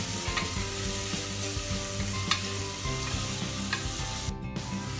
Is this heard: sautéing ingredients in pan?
yes